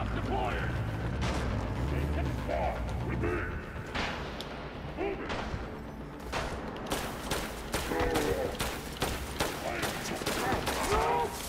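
Rapid gunfire in the VR shooter Synapse on PSVR2, a steady run of sharp shots over a loud, busy game soundscape with music and effects, some shots clustered and others spaced out.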